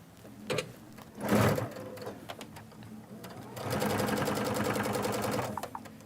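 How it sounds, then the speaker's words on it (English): A sewing machine stitches table runner fabric, with short whirring bursts, then a sustained run of rapid needle beats, close by and without voices. "line it up, and sew right there"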